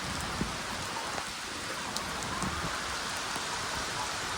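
Heavy first monsoon rain pours steadily over a village, a dense, even hiss of drops on surfaces with scattered nearby patters and no voices.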